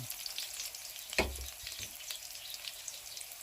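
Garlic is stir-fried in a pan for a home-cooked fried rice lunch with kale, giving a soft continuous sizzle with a brief louder scrape of stirring, and no talking.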